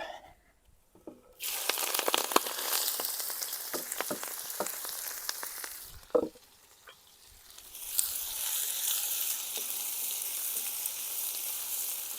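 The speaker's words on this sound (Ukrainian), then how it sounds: "Обжарюємо цибульку." Onions frying in oil in a cauldron, a loud continuous sizzle that starts abruptly, eases briefly with a clank of a utensil, then returns strong and steady.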